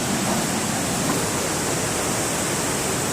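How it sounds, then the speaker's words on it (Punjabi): A fast-flowing river rushes near Mana village by Badrinath, the last village in India. It makes a loud, dense, unbroken roar of churning water, heard close up with no voices over it. "ਪਾਣੀ ਵੇਖ ਲਓ ਕਿੰਨਾ ਤੇਜ਼ ਆ ਰਿਹਾ, ਡੂੰਘਾਈ ਕਿੰਨੀ ਹੈ"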